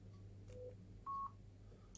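Electronic beep tones from a Blinken memory game in the style of Simon, a few soft single tones at different pitches with short gaps, over a low steady hum.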